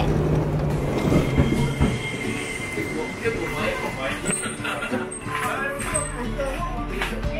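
Streetcar running through the Dogo Onsen hot spring town, loud and close at first with rumbling wheels and squealing rail noise, then easing off while people talk nearby.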